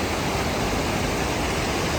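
Steady broadband rush of water flowing near Kundal Shahi waterfall in Neelum Valley, Azad Kashmir, a continuous close roar with no breaks or talk.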